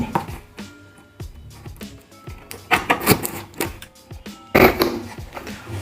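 A tripod's packaging is cut open with sharp, irregular scraping and snapping sounds that come in bursts with short pauses between them, close and fairly loud, with no voices.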